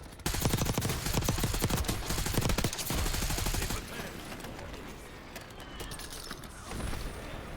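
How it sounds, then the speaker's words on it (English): Precision airstrike explosions in the Warzone video game: a dense, loud barrage of rapid booming blasts for several seconds, then settling into a lower rumbling roar with scattered impacts. "Enemy precision airstrike. Find cover."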